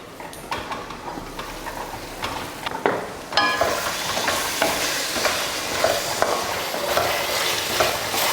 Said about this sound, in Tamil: ஒரு 3 நிமிஷத்துக்கு மூடி வச்சு வேக வச்சுக்கலாம்